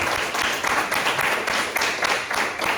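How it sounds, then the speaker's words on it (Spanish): An audience at a Spanish-language novel presentation gives a round of applause, a steady, fairly loud wash of many hands clapping throughout the short stretch. "un aplauso para él, por favor"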